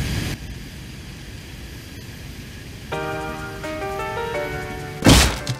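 An aircraft in Minecraft drones overhead, a steady tonal hum setting in after a quiet stretch and then ending in a sharp thunk.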